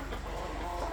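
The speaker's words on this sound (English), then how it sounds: "I've got close to 30 chickens here." Around thirty backyard chickens make a dense, steady bed of overlapping clucks and murmurs, close by and continuous with no one talking.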